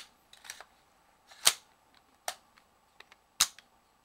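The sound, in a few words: AR-15 rifle dust cover opening during functions check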